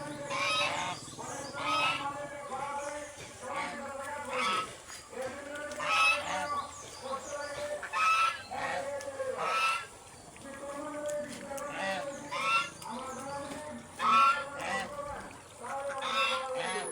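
Domestic geese honk repeatedly nearby, a flock calling in loud overlapping nasal bursts that rise and fall throughout.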